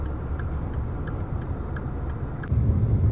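A car drives through snowy winter streets in Flint, Michigan, with a steady low road rumble from inside, a regular ticking indicator over it and a louder surge of engine noise near the end.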